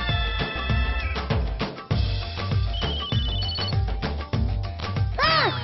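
A telephone rings on and on with no one picking up, its bell tones repeating in regular bursts, loud and alone, with a rising chirp near the end.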